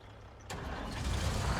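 A large loader's engine in Farming Simulator 25 rises from a quiet idle into a loud, broad rumbling roar that swells and holds steady, heavy and close, with no voices over it.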